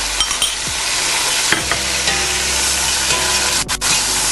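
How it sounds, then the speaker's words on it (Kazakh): Onion, tomato and tomato paste fry together in a pan, with continuous sizzling crackle and a few sharp spoon scrapes as the mixture is stirred, close and fairly loud with no talking. "пиязымызды, помидорымызды, томатымызды жақсылап қуырып аламыз."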